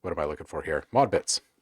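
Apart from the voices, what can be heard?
No distinct noise like a dog, phone or traffic.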